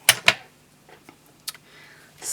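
Paper being cut with scissors for an art journal page: two quick, crisp snips up close, then a few softer, fainter snips and rustles, with no one talking over them.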